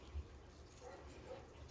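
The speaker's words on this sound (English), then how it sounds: "I do apologize for the dog that's barking in the background" A dog barks faintly in the distance, a couple of soft, muffled woofs under a quiet room hush.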